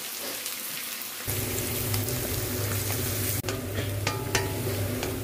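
Onion with ground cumin, coriander, red chili, ginger and garlic fries in a pan for a Nepali goat bhutan, a loud, close, crackling sizzle that bursts in after a quiet second and then holds steady, with no talking.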